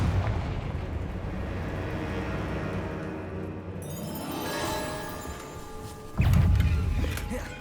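A Confringo blasting spell from Hogwarts Legacy erupts: a rumbling fiery explosion swells and crackles, then a second, louder blast hits sharply near the end, close and heavy with no voices over it.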